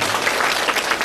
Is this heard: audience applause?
yes